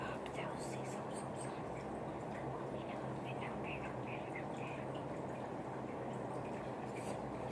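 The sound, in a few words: waterfall flowing behind the speaker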